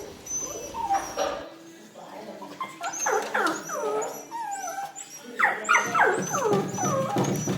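A puppy whines and whimpers nearby in repeated high, wavering cries and short yips, coming in clusters with brief pauses between them, loud and close.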